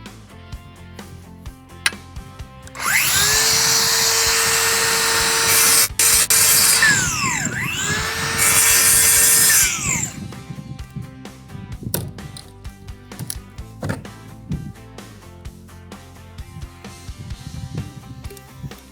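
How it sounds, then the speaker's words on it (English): A circular saw cuts out a wooden stud while a shed is installed in Azle, Texas. A loud, steady whining roar runs for about seven seconds with a brief dip midway, followed by scattered quieter knocks and clatter. "we will finish cutting all of that out with the skill saw"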